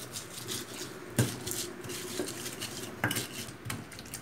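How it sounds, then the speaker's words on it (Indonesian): Spices, vinegar and about two teaspoons of sugar are ground for a Sumatran sambal terasi with a mortar and pestle, giving soft scraping and grinding punctuated by a few sharp knocks of the pestle against the mortar, close and quiet. "Ini kita ulek sampai sekiranya halus."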